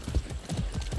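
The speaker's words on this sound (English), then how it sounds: "Philly, don't mind if I borrow your horse" Horse hooves clip-clop in a steady rhythm as a ridden horse moves along in the Far Cry video game, the regular thuds close and moderately loud with no talking over them.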